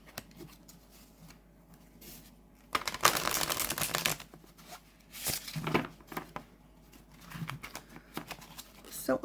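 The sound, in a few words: oracle card deck being shuffled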